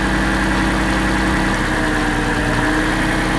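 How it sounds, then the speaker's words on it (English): Car engine idling with one ignition coil pulled out, a steady, loud, close rumble with an uneven misfiring vibration running through it. "You see the engine is vibrating."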